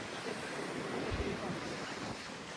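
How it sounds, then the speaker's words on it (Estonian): Strong wind buffets the microphone at a seaside promenade as waves roll in, a constant roaring wash at low level with no clear speech. "Räme tuul."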